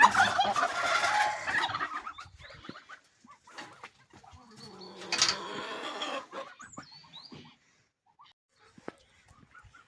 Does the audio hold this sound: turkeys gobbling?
yes